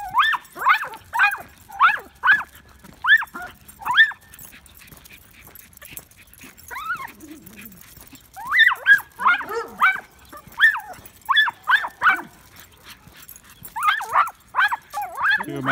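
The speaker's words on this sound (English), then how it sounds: "My neighbor's dogs." Several dogs yip and bark in short bursts, mixed with high whimpers, close by, with a pause in the middle before the barking resumes.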